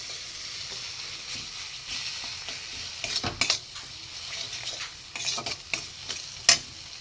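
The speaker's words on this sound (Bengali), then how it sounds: "ভালো করে একটু কষিয়ে নিই।" Spices for a skin-on potato curry sauté in a pan with a soft continuous sizzle, broken by sharp scrapes and clacks of a spatula stirring, nearby and without voices.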